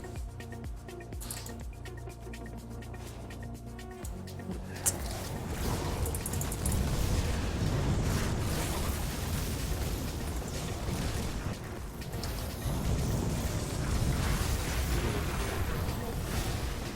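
Spell explosions from a sorcerer build in the game Grim Dawn, heard as a dense, loud barrage of booming blasts and crackling impacts. A sudden burst at about five seconds sets off sustained chaotic combat noise that continues to the end.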